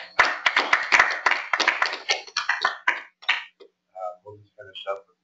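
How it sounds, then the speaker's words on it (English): A small group at an inner-peace webinar session claps for a few seconds, with sharp, close handclaps that thin out and stop before someone speaks. "We'll give Carlos a round of applause."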